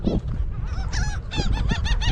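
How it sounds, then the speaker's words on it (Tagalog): Startled birds honking loudly at a beach in Bimini, Bahamas, a rapid series of harsh goose-like calls close by, overlapping in bursts with no talking. "Bubulabugin natin ng mga ibon."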